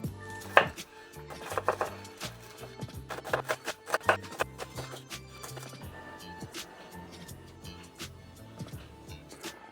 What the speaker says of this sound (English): just to chop up a couple of spring onions